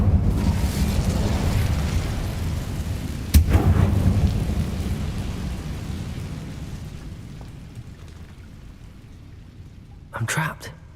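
Incendio fire spell cast in Hogwarts Legacy: a sharp crack sets off a loud roaring whoosh of flames that slowly fades, with a brief burst near the end.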